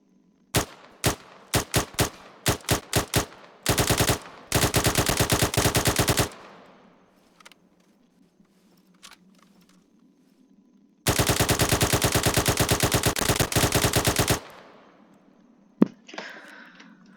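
A 5.56mm rifle with a 30-round magazine and 770 rounds-per-minute rate, fired in Arma 3 with a British forces mod: several loud single shots, then long rapid full-auto bursts separated by silence.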